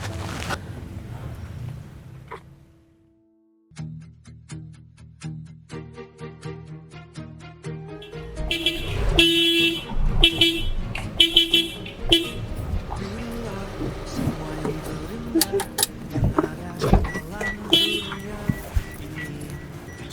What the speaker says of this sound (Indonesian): aku dari tadi klakson kamu berapa kali kamu nggak noleh